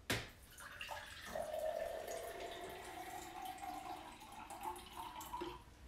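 Murky clay water pours from a plastic pitcher in a steady, close, continuous stream with soft splashing that wavers slightly in strength for several seconds.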